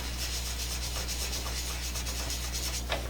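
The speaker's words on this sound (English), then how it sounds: "pick a spot randomly with our sandpaper and just sand on it" Sandpaper rubs across a diecast AMC Rebel model car body, a faint, even, continuous scratching close up, with no talk.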